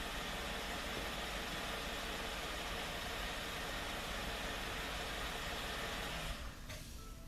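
A mid-size vehicle engine idles with a steady, even hum and light vibration, then the rumble drops away as the engine is switched off near the end.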